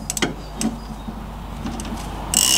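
A wrench works a 9/16 shock absorber pinch bolt on an MGB's front lever arm damper suspension, with a few sharp metallic clicks and scrapes early on, then quiet rubbing and a louder grinding burst at the end.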